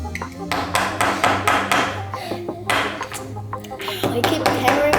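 Hammer and chisel chipping rock to free gemstones, sharp metallic strikes repeating in quick irregular bursts, close and loud throughout.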